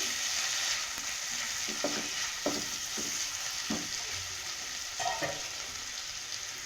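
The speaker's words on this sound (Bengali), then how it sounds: "হাফ টিস্পুনের মতো ধনে গুঁড়ো, হাফ টিস্পুনের মতো জিরে গুঁড়ো দিয়ে আমি ভালোভাবে সবজির সাথে একটু মিশিয়ে নিচ্ছি" Vegetables with coriander and cumin powder are stir-fried for a vegetable patty filling: a steady sizzle with a series of distinct spoon scrapes and taps against the pan, close and fairly quiet, no voices.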